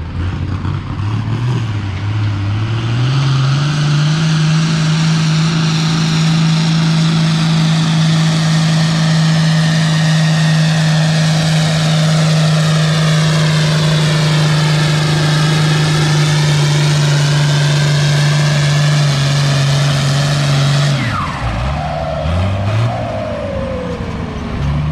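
A Farmall 1256 tractor pulls a 10,000-pound sled at a vintage farming days tractor pull, its engine roaring loud and steady at a sustained high pitch before easing off and dropping away near the end.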